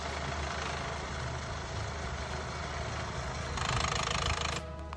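A failing Range Rover Evoque engine runs roughly at close range after smoking, a rattling, uneven idle from a failing head that grows louder and harsher near the end before abruptly cutting off.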